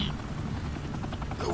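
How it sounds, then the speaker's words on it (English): Rapid rhythmic blade chop of a helicopter in a Batman video game, loud and steady across the short moment, with a voice partly over it. "I think they saw it live on television from that helicopter."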